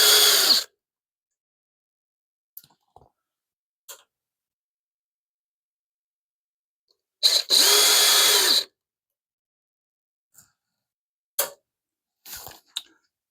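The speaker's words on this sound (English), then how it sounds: "We're going to remove these screws." Power drill backing screws out of a DeWalt DW735 planer: two whirring bursts separated by silence, a short one first and a longer one later, with small clicks and handling taps between them.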